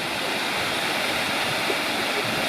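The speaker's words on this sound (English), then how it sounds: "There's the waterfall and what we almost died to." Yosemite Falls rushes at its top, a loud, constant roar of falling water with no break or talking, filling the whole stretch evenly.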